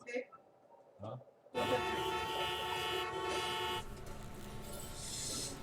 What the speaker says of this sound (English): Honking horns.